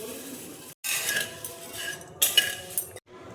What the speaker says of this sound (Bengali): চিড়েটা দেখো শুকনো কড়াইয়ে আমি নেড়ে নেব।